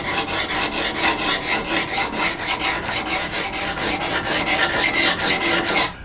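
A hand file rasps against the bevel of a hewing hatchet in steady, evenly spaced strokes, close and loud, with about two strokes a second and no voices.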